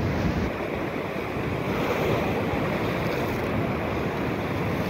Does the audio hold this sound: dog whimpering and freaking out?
no